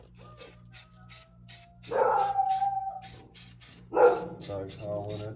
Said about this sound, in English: Dog's howling at the neighbors.